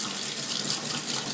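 Cold tap water runs from a kitchen sink faucet into a pot over chicken, a steady, even hiss of flowing water, close and continuous, with no talking.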